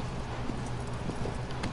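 Rapid rhythmic hoofbeats of a horse galloping in the video game Shadow of the Colossus, a steady close clip-clop over a dense background rumble.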